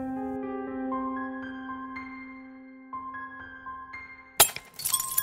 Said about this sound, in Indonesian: Tiba-tiba lampu bohlam LED meledak seketika.